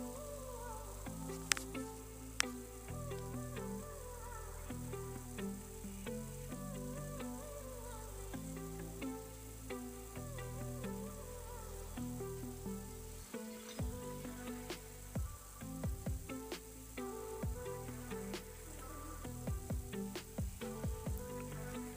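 Chopped onion frying in a pan at home, a steady close sizzle running throughout with small pops and stirring clinks, no talking.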